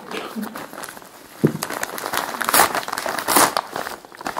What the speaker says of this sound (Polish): Teraz otwieramy koperty, żeby zobaczyć, co to za książki.